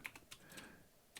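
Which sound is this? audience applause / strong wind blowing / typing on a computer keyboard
typing on a computer keyboard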